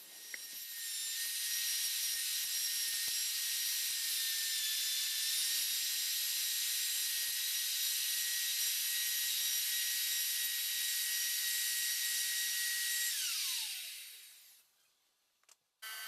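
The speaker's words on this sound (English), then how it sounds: "I have the drawer parts set up in my dovetail jig, and we're going to start cutting the half-blind dovetails" A router cuts half-blind dovetails in drawer parts held in a dovetail jig, giving a loud, steady high-pitched whine that holds for about thirteen seconds and then spins down to silence.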